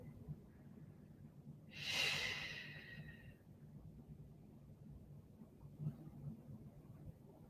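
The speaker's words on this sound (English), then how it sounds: "Close your eyes. And take a few deep breaths here." A single long, deep breath during a guided yoga relaxation, an audible airy exhale near the start, followed by a quiet, still room with a low background murmur.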